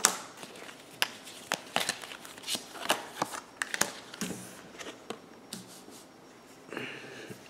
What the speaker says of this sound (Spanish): Vamos a sacar otras cartas.